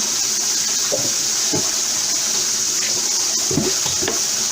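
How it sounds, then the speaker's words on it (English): Water runs steadily from a tap while plates are washed, with a few soft clatters of dishes near the middle and end and no talking. "Let me wash some plates"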